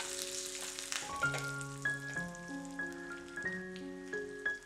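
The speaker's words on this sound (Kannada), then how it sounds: "ಮೆಣಸು ಸ್ವಲ್ಪ ಹುರಿದ ಮೇಲೆ 4-5 ಕರಿಬೇವನ್ನ ಕಟ್ ಮಾಡಿ ಹಾಕಿ ಹುರಿಬೇಕು" Chillies and cut curry leaves frying in hot tempering oil, a close, continuous crackling sizzle heard alone, with a few sharper pops standing out.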